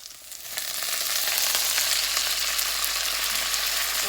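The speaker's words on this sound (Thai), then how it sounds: "เอาผัดให้มันหอมกันนะคะเนาะ เอาจะผัดเข้าใส่ปวเลยค่ะ" Wild vegetables stir-fried in a hot pan give a loud, steady sizzle that swells within the first half second and crackles on without pause.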